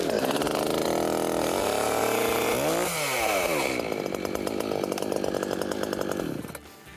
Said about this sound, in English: And that's how you start a chainsaw